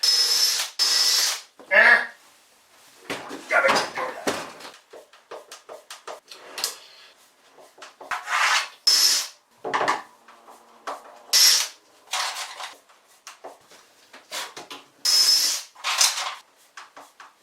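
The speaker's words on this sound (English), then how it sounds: "I'm going to make very good use of my old friend the self-centering drill bit" Bursts of drilling and whirring tool noise from a self-centering drill bit during wooden boat restoration come in short, repeated runs with clicks and handling sounds in between, close and fairly loud.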